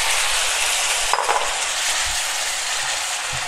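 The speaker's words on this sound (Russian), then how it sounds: "Все обжариваем пару минут." Meat and vegetables with peppers fry in a pan with a loud, steady broadband sizzle, close up, with a few faint clinks from stirring and no talking.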